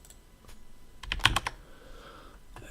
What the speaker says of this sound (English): That's the mechanical keyboard.